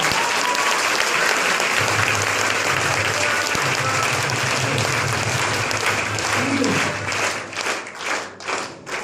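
An audience applauds at a group meeting, a broad sustained clapping that holds steady and then thins into separate, uneven claps near the end.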